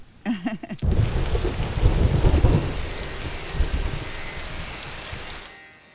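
Heavy rain pours down steadily during a thunderstorm, with loud rumbling thunder building near the start and a brief low sound before the downpour fills in, then fading toward the end.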